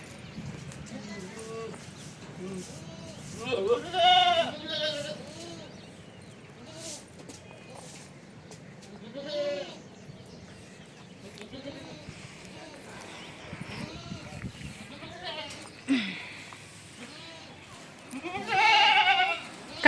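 Goats bleating on a farm amid muddy ground, several wavering bleats scattered through the stretch, mixed with people talking and calling out nearby.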